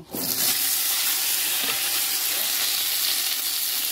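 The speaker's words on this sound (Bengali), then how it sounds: "এবার আমি এই তেলেতেই আলুগুলোকেও ভেজে নেব।" Potatoes frying in hot oil, a loud dense sizzle that bursts in at the start and holds steady and close for the whole stretch, no talk.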